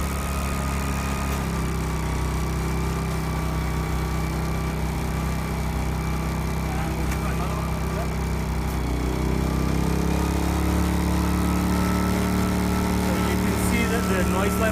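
A 3.8 kVA portable generator's small engine drones steadily under load, running appliances such as a toaster, at a constant loud level, its pitch barely shifting throughout.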